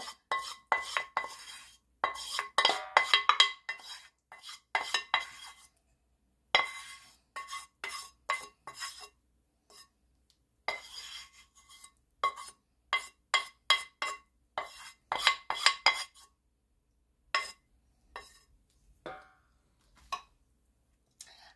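A utensil clinks and scrapes against a bowl while longganisa meat is mixed with garlic and annatto oil, in quick irregular bursts with short pauses, close and with no talking.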